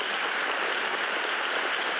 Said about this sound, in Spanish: Gran ovación de los asistentes con un interminable aplauso a Román, el guardia civil herido de bala en un atraco en Yuncos